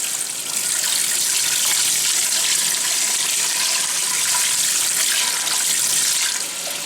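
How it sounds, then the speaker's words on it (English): A kitchen tap runs hot water into a sink while stinging nettles are washed under it, a loud, steady gushing stream close by that fades slightly at the very end. "Might as well wash it with hot water because it's got to get cooked anyway."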